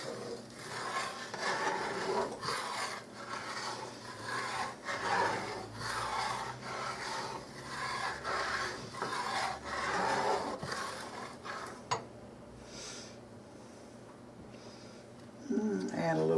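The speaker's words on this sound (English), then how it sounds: "get these bits that were on the bottom scraped up good" A utensil scraping cooked bits off the bottom of a pan while making cube steak, rhythmic rasping strokes repeating for several seconds, close and moderately loud, with a person talking over it.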